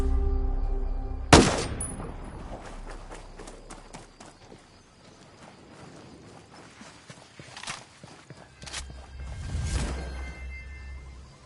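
Gunfire in the video game Ghost Recon Breakpoint: a sharp loud shot opens, followed by rapid clattering bursts and scattered impacts, with a rumbling swell near the end.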